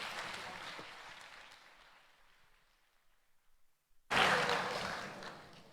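Conference audience applauding at the Futurapolis 2018 science forum: a broad wash of clapping that thins out to near silence, then bursts back in loudly and stays strong to the end.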